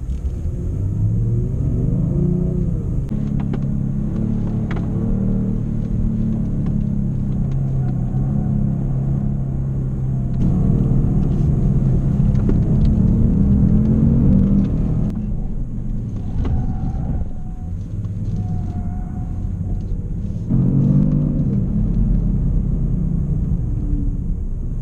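Kia Stinger GT lapping an autocross course in California, its engine rumbling steadily and swelling under throttle for the whole stretch, close and continuous with no voices.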